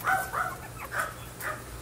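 Puppies yip and bark in short, repeated bursts as they scramble out to nurse from their mother, several high little barks close by in a noisy room.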